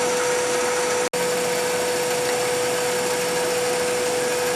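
A finial gouge cuts ambrosia maple spinning on a lathe, a continuous close hum with a steady tone and scraping texture, broken by one very short dropout early on, with no talking.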